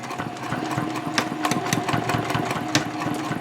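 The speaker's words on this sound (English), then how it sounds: "And then I can sew all the way to the end again." A sewing machine stitches a seam on a triangle pouch, running in a fast, rapid mechanical chatter close by, with a few sharper clicks along the way and no talking.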